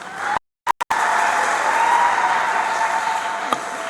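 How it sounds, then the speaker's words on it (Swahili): Members of a church jubilee congregation applaud with a sustained wash of clapping, broken by brief dropouts near the start, then carrying on steadily and fairly loudly until a single sharp knock near the end. "Makofi mengine tena kwake"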